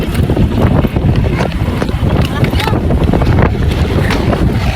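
Loud, constant wind buffeting the microphone in a park with a heavy low rumble, steady throughout with no pauses.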